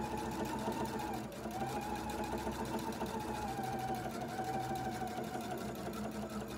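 A sewing machine runs a straight seam through batik fabric, its needle chattering in a fast, steady, unbroken rhythm at close range, with only a slight dip in pace early on.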